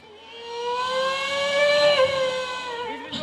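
A police car siren wails with a steady, slightly wavering tone that swells a little and then fades, with no voices over it.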